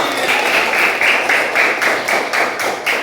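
A classroom group claps in applause after a student group's presentation, a steady, fairly loud patter of many hands lasting throughout with a slightly pulsing rhythm, no speech over it.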